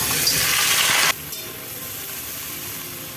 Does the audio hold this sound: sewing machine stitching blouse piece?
no